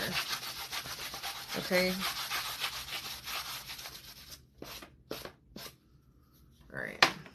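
A surface is hand sanded with 220-grit sandpaper. Close, dry rubbing strokes repeat steadily, and someone speaks briefly over them. The scraping then breaks into a few separate swipes before it stops.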